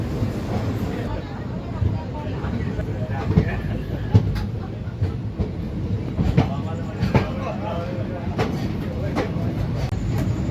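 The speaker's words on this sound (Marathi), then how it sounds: "आपली अमरावती पुणे एक्सप्रेस निघालेली आहे अकोला जंक्शनवरून." The Amravati Pune Express pulls out of Akola Junction at night, with a steady rumble and rattling clicks of wheels over rail joints heard from inside the carriage, loud and continuous, with voices murmuring underneath.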